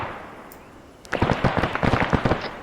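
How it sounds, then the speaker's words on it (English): Distant gunfire in the military video game ArmA 3 breaks out after a quiet second, a rapid volley of sharp cracks and pops trailing into echoing shots. "Well, I pissed them off, so they're shooting at me now."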